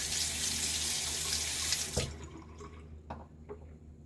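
Tap water gushes steadily into a sink for rinsing after a shave, then shuts off abruptly at about two seconds, leaving a few faint drips and small splashes close by.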